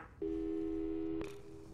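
Telephone busy signal in the Portal 2 video game, a steady single tone that starts abruptly and holds for about a second before cutting to a quieter background hum.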